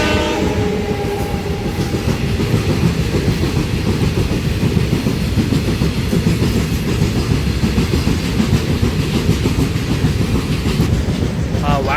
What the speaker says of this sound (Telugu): ఇది వ్యాగ్ 12 అండి